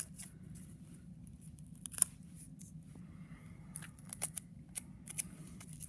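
Tape is pulled and torn from a tape dispenser in a quiet room, giving several short, faint crackling rips and snaps scattered over a low background hum.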